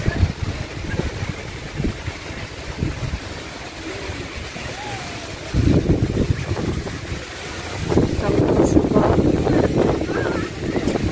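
Strong wind blows along the Red Sea shore at a hotel beach in Hurghada, Egypt, roaring steadily into the microphone with gusts that swell and buffet, mixed with the wash of nearby surf.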